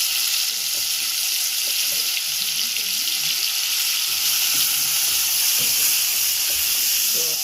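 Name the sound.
onions frying in a pan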